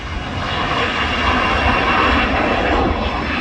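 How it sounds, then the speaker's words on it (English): A white SAS airliner bound for Copenhagen climbs out of Manchester Airport, its engines a loud, steady broadband roar that swells slightly and holds without voices. "There's that bloody white plane we saw before, working for SAS, on its way to Copenhagen."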